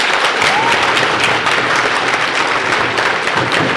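Audience applause at an all-India educational conference's Bait Baazi poetry contest in Aurangabad, a dense, steady roar of many clapping hands filling the hall throughout without pause.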